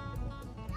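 A herding puppy lets out a few quick, high yips and whimpers, faint and somewhat distant over outdoor background noise.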